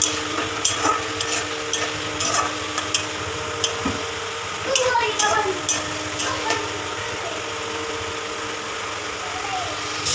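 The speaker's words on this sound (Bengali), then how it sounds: "এগুলোকে দিয়ে আবার একটু ভালো করে কষাবো" A spice paste for chicken curry is stir-fried in a pan, with continuous sizzling and scraping stirs plus occasional clanks of the utensil, while someone talks over it.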